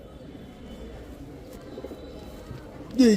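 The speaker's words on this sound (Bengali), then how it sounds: "এগুলো কি আপনাদের রাজশাহীর গিরিবাস কবুতর" Rajshahi Giribaz pigeons coo softly and repeatedly at close range with low, rolling calls, and a voice briefly cuts in at the end.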